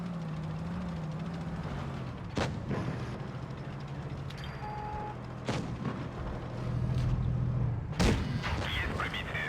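Tank cannon shots in the mobile video game World of Tanks Blitz, several loud booming blasts spaced a few seconds apart over a continuous rumbling engine hum.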